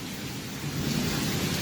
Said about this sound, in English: I guess it's raining right now.